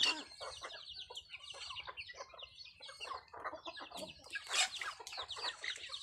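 Native chickens cluck and squawk continuously, a flock of overlapping calls, fairly close but quiet, with no talking.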